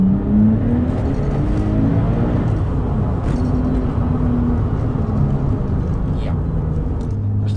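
The twin-turbo engine of a 2001 Porsche 911 Turbo (996) drones loudly and steadily from inside the car, its pitch shifting slightly, while a person talks over it.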